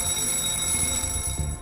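An emergency fire alarm rings continuously at a steady level for the whole stretch, a sustained electronic tone with a strong, even ringing quality and no speech over it.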